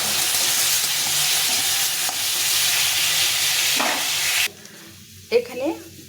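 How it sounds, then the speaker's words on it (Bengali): Vegetable curry frying in a pan with salt and turmeric gives a loud, steady sizzle with stirring, then drops away sharply near the end, leaving a few brief clanks. "তরকারিটা ভাজা ভাজা হচ্ছে।"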